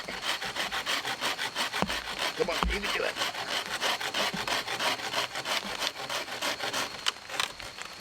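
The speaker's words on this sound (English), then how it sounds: "Left-handed sawing." A handsaw cuts through wood left-handed at a rainy campsite, in quick, regular back-and-forth strokes, rasping loudly up close, with a brief spoken encouragement partway through.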